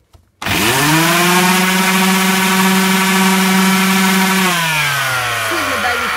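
A Makita BO 5020 random orbital sander starts up after a brief silence and runs loud and steady with a whining motor hum, then winds down near the end.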